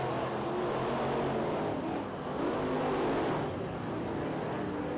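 Dirt race cars in a Winter Nationals B-main, running side by side, produce a steady engine roar with a slight dip partway through, loud and continuous without talk.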